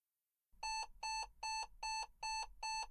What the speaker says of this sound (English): a warning tone sounds several times to warn of a possible collision